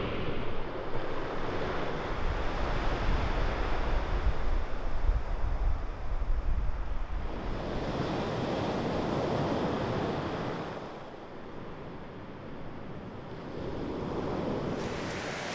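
Sea waves break and wash continuously onto a white beach of turquoise water on Lefkada, Greece, a steady broadband roar with some wind buffeting the microphone and no voices.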